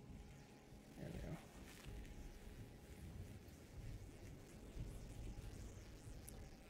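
Thunder from a storm in the Kenshi video game: a low, continuous rumbling roll with rain-like hiss, steady and moderately faint throughout, without talk.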